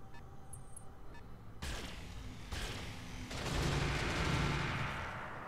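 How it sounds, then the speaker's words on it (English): Sustained machine gun fire from mech combat in the video game Roguepoint comes in heavy, continuous bursts that grow louder and denser partway through. A few faint beeps and electronic tones sound first. "Yeah, I like those machine guns"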